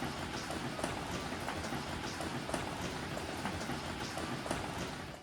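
Steady rain falls outside a room at a Japanese onsen, a dense even patter with faint drips and splashes standing out, continuous and fairly close, with no talking.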